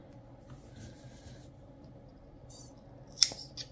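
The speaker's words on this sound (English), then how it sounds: "Trim that back." Scissors snip crochet yarn ends once, a single crisp cut near the end after soft rustling and handling of the yarn, close and fairly quiet.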